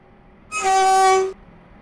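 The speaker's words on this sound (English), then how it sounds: "The train now approaching Platform 2 terminates here." A Class 720 train on the Stepford County Railway in the Roblox game sounds one short, loud horn blast of just under a second as it arrives at the platform, with no other sound around it.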